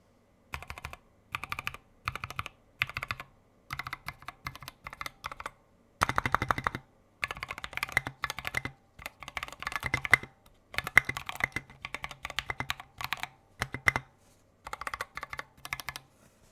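Typing on a mechanical keyboard fitted with lubricated Telios linear switches, rapid muted clacks in short bursts separated by brief pauses, close and alone.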